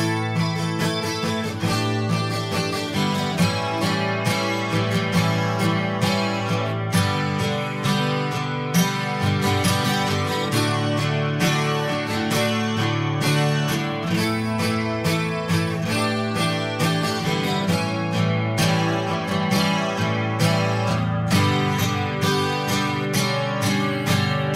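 Acoustic guitar strumming the first chorus of a song, steady rhythmic strokes with full chords throughout, close and loud with no voice.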